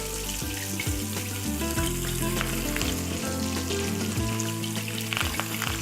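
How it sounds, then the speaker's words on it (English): Loud, crackling sizzle of Parmesan and herb crusted lamb cutlets frying in hot oil, continuous popping and spitting close by, with no talking. "And that sizzle, perfect example of what we want."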